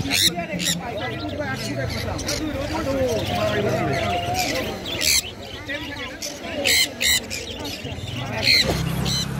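Lutino cockatiels and other caged birds at Kolkata's Galiff Street bird market chirp and squawk in short bright bursts while a person talks nearby.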